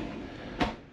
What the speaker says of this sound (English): magnetic strip holds the door closed.